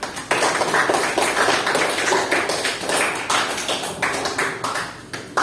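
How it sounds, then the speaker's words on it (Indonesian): Applause in a classroom during a micro-teaching lesson: a small group clapping fast and unevenly for about five seconds, close and fairly loud, with no talk over it. "tepuk tangan untuk kita semua"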